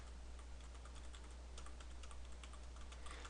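Computer keyboard keys tapped in a steady, irregular patter of light clicks while playing the game Depict1, close and moderately quiet over a constant low hum.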